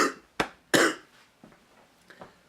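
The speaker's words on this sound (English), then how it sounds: "still got this fucking stupid cough" A person with a lingering sore-throat cough gives two sharp, close coughs early on, followed by a few fainter throaty coughs and breaths trailing off.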